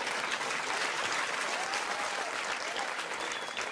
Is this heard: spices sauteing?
no